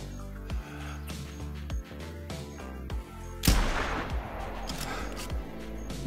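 A single sharp, loud rifle shot fired at a banteng in The Hunter Classic rings out midway, followed by a lingering rumbling echo, with quiet game music before it.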